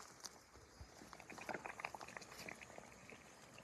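A skull simmering in a pot of boiling water on a stovetop, giving a quiet, continuous bubbling with soft irregular pops and patters, close and low in level.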